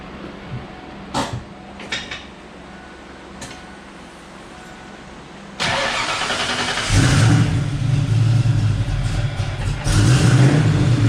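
A Ford Mustang Fox Body sits quiet through a few clicks and knocks, then its engine cranks and catches at once into a loud, steady idle that lifts slightly in a short rev. It stays close and runs throughout with no talking.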